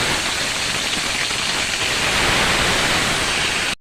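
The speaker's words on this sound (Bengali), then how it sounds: "এবার আমি তেলের মধ্যে ফুলকপিগুলো দিয়ে দিই।" Cauliflower pieces fry in hot oil with a loud, dense, continuous sizzle like heavy rain that holds steady close by and then cuts off abruptly.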